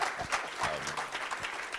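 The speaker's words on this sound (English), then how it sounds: "If we could give everyone a round of applause." Audience applause at a talk on history from segregation to Black Lives Matter, scattered claps of moderate loudness over about two seconds with some voices mixed in.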